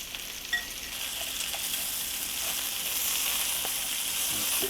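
Smoked sausage fries in a pan with a steady, soft sizzle that builds slightly over several seconds, faint and continuous with a few small pops, no talking.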